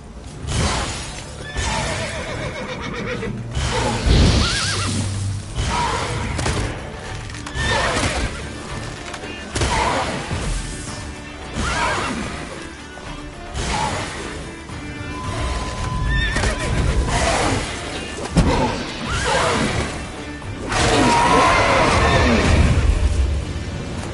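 Roach, a horse in a video game, neighs loudly several times over continuous galloping hoofbeats, the whinnies and clip-clop filling a long close stretch without talk.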